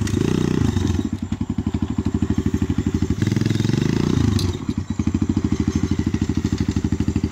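A dirt bike engine running nearby, a loud steady rapid putter with brief revving swells, continuous and close.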